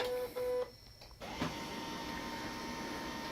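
A few short mechanical beeps from a Canon ImageClass MF236n laser printer powering up, then a brief pause before it whirs into life with a steady motorized hum that continues evenly.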